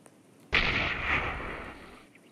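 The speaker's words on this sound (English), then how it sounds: "A whole house exploded." A whole house blows up in the Roblox video game: one sudden loud blast that rumbles on for about a second and a half, then fades away.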